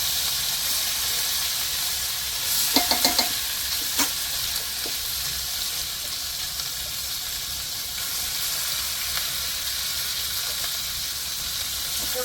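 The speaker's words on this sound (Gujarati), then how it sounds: "એ બધો મસાલો આમાં તેલમાં નાખી દઈએ" Ground masala with cumin and bay leaf fries in oil, a loud steady sizzle and hiss with a few sharp clinks of a utensil early on, then continuous frying.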